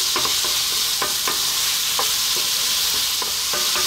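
Sugar snap peas, bell peppers and mushrooms sizzle over lively heat in a pan, with a steady hiss of frying broken by several sharp clacks as the vegetables are stirred and tossed.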